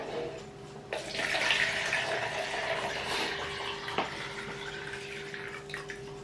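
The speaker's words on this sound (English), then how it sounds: "right, pour out the stop bath." Stop bath poured out of a film developing tank while processing film shot on a 100-year-old Voigtlander camera, a steady liquid gush lasting several seconds with a small knock near the end, close and alone.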